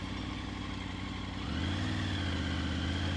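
Triumph Tiger 900 motorcycle engine running steadily, then the pitch and level step up midway as the throttle opens gently, a close, continuous engine drone with no voices.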